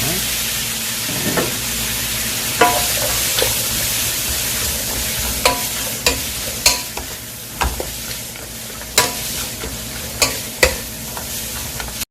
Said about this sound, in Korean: 약불로 내리고 한참 동안 볶아줍니다